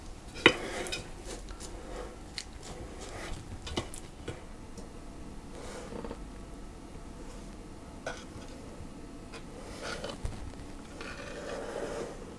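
Chocolate sponge batter spread into baking tins with a utensil, giving soft scraping and scattered light clinks and taps of metal against the tins, irregular and fairly close.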